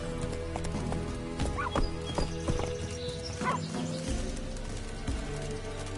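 Hooves of Roach, Geralt's horse in The Witcher 3: Wild Hunt, clip-clop at a steady galloping rhythm, with a short whinny and faint game ambience layered underneath, no voices.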